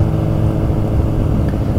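Motorcycle exhaust with the dB killer removed, a loud, steady, close engine drone holding an even rumble for a brief stretch, with no voices.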